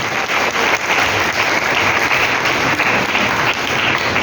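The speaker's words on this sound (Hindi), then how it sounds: "जोरदार तालियां के साथ।" Congregation applauding during a Sunday church service, a loud, dense and sustained burst of clapping from a large crowd, continuous and close throughout.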